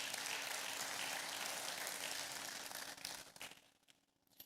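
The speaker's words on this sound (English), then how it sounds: "A round of applause, please." A summit audience claps in a steady, moderately distant round of applause that fades away over the last second.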